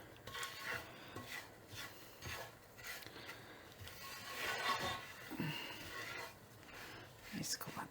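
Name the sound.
coconut being dry-roasted and stirred in a pan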